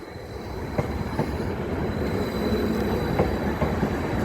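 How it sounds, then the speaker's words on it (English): A Class 330 passenger train passes near Norwich with a steady, loud rolling rumble punctuated by rhythmic clicks of wheels crossing rail joints. "Here's a train now passing."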